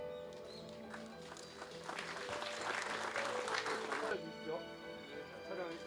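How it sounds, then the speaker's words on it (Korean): An audience claps at a Daegu ceremony marking an energy industry agreement and the completion of a fast electric-vehicle charging station. The applause swells through the middle, then fades under an announcer's voice and background music. "축하의 박수 부탁드립니다"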